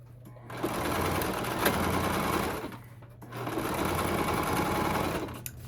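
A sewing machine runs in two sustained bursts with a short pause between them, top stitching pleats on a flannel duster. The stitching sounds fast and even, close to the microphone.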